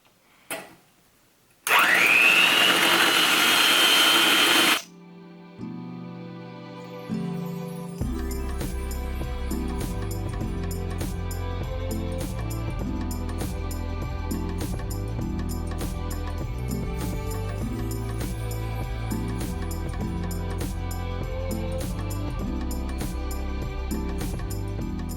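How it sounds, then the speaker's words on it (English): An electric hand mixer whisks Dalgona coffee with a loud, steady whirring buzz for about three seconds, then cuts off abruptly. A rhythmic ticking, tool-like backing carries on afterward. "Let's just start whisking."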